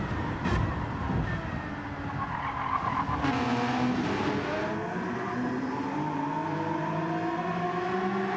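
Race cars at Autopolis in a racing video game on a partly wet track: a close engine roar with tire squeal and skidding, then engine notes rising and falling as cars pass.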